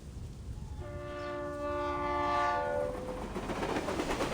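A train rumbles along in a game cutscene, with a long, loud horn blast over the steady rolling noise of the cars, and no talking.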